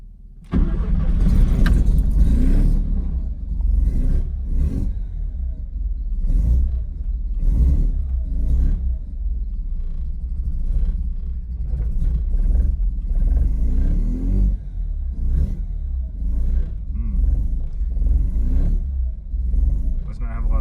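A Mazda 12A rotary engine, fed through a carburetor, cranks and fires, then runs with a loud, lumpy rumble and repeated revs; people talk over it.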